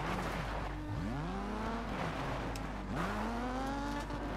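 A rally car in the racing game Colin McRae: Dirt 2 spins out on a corner, engine revving up and down in sweeping pitch swings amid tyre noise, loud and continuous.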